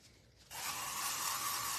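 A can of dry shampoo sprays steadily onto hair at the roots, near and loud, starting abruptly after a brief quiet and hissing continuously to the end.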